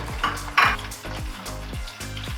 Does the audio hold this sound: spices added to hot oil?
yes